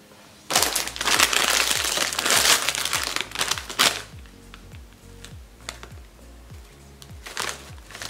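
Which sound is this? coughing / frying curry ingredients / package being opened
package being opened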